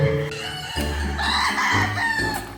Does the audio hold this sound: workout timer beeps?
no